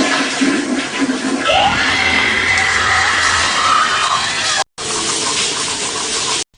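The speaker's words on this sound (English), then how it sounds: "He flushes the toilet, the water gets cold, and it does that predator or the alien scream." A toilet flushes in a loud, rushing burst while a shrill, rising alien or predator-like scream cuts through it, a sound effect from an old 1980s commercial; the roar stops abruptly, then resumes briefly.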